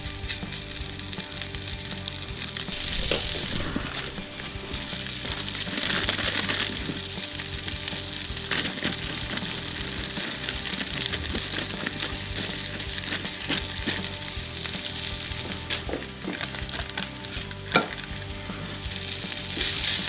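Duck egg fried rice crisping in a hot pan gives a steady, loud sizzle with scraping stir strokes and occasional clacks of a utensil throughout, and no voices.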